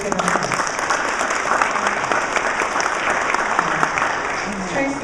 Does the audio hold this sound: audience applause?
yes